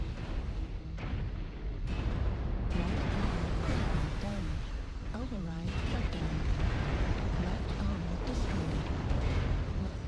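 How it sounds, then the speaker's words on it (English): An ammo explosion rocks a Centurion CN9-AH(L) mech in MechWarrior Online amid rolling booms and weapon fire, with a player talking over the loud, continuous battle din. "Ammo explosion."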